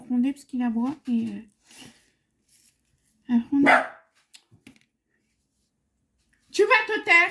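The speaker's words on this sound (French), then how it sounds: "Bon, désolé si vous avez entendu encore aboyer" A dog barks in short clusters close by, with a few sharp barks at the start, one more in the middle and another burst at the end, separated by silence.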